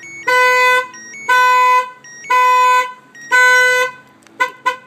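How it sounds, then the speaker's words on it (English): A newly installed aftermarket car alarm goes off after the car is struck, sounding four loud, evenly spaced horn-like blasts and then two short chirps, close and with no talking. "they hit the car harder, the alarm's gonna go off."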